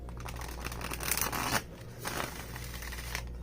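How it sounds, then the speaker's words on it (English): Large cards made of art paper rather than cardstock are shuffled by hand, giving a dense, continuous papery riffle and rustle with brighter bursts of friction, heard close up with no talking. "even though the cards are large, and I'm pretty sure they're made of art paper rather than cardstock, it's still a good shuffle"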